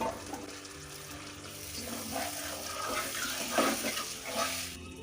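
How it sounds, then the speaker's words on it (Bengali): Water from a washed bowl is poured into a pot while cooking gondhoraj chicken in a home kitchen, a steady splashing pour running for several seconds before stopping near the end. "আমি বাটির জলটা ধুয়ে দিয়ে দিলাম"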